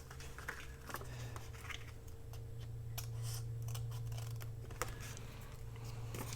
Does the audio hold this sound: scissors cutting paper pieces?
yes